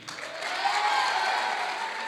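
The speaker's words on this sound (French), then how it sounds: "Veuillez applaudir l'équipe du pour, la deuxième année D." A school audience applauds a debate team in a steady, dense wash of clapping that holds at an even level for about two seconds.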